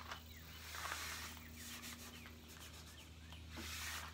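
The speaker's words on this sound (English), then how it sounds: "I'm gonna go ahead and wipe that side" Soft, repeated rubbing strokes of a rag wiping water-based painted furniture that has been sanded for distressing, quiet and close with a steady low hum behind, no talking.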